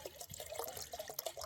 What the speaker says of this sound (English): We got to add our water. Add our water. Fill it to our max fill line.